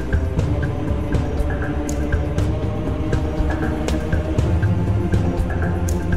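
Forest theme music from the video game Zeno Clash plays steadily at full level, with dense layered low tones, a repeating bright plucked motif and scattered percussive hits, with no talk.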